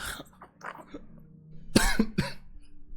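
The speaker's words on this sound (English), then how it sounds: "we had to cough at the same time" Two people cough together in a sharp synchronized burst, a couple of quick hacks close by, after a short stretch of quiet background murmur at a tabletop Dungeons & Dragons game session.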